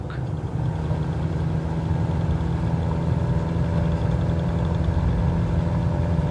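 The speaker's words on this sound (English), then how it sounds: "Now apply full power with some right rudder for the engine torque." An aircraft engine in Microsoft Flight Simulator 2020 drones steadily at full power, a constant loud hum with no change in pitch.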